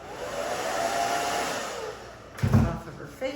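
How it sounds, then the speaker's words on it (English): A handheld blow dryer roars steadily while drying a woman's wispy bangs after a bob haircut for thin hair. It dips as the airflow shifts, then gives a brief gusty burst near the end. "now let me take the blow dryer"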